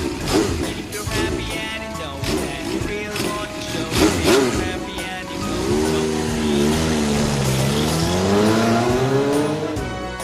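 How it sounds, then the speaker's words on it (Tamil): Two-wheeled motorbike engine, petrol or electric-battery powered, revving loudly with rising and falling pitch sweeps that build into a sustained high whine. "இரண்டாவதாக மோட்டார் பைக்."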